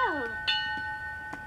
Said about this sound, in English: B is for bell.